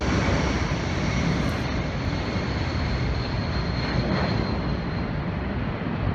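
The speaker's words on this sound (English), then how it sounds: "there was an air show in Australia where planes flew really close to buildings" Aircraft passing low at an air show in Australia, a steady loud broadband engine roar that holds throughout with no break, no voices over it.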